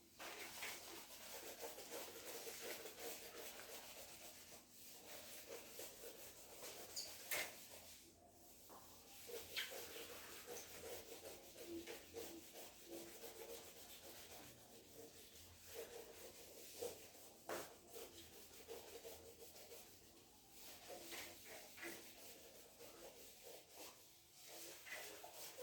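Writing being rubbed off a classroom board, heard as a continuous faint scrubbing and brushing that runs unbroken with slight rhythmic swells, quiet and close, with no talk.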